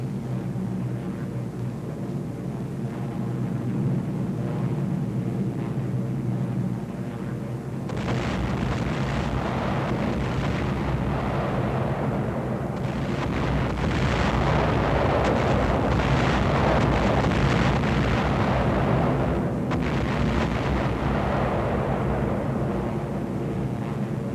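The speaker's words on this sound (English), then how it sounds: "phosphorus bombs popping all over the place" Phosphorus bombs burst in a wartime film effect, heavy rumbling blasts rolling over a steady aircraft engine drone, with several loud eruptions clustering from about the middle onward.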